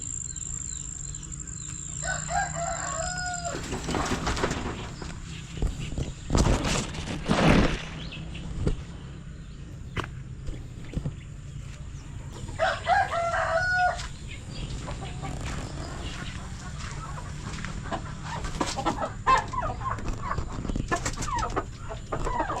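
A new rooster crows twice on a farm, once early and again about midway, its harmonic calls standing clear over steady outdoor background noise and scattered clatter, with no talking.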